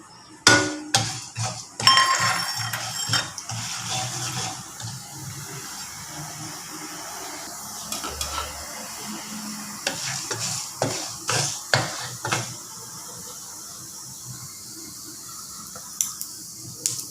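Mustard seeds and urad dal hit hot oil in a pan, giving a loud opening crackle and sizzle with sharp pops and spatters, then a steadier fry with scattered pops and stirring clatter.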